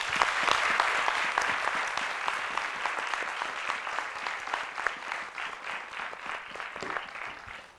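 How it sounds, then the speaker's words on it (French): A crowd applauds guest Diallo Mendes on a café-style show: sustained, even clapping from many hands with sharp individual claps standing out, tapering off slightly toward the end. "je voudrais qu'on applaudisse très fort monsieur Diallo Mendes"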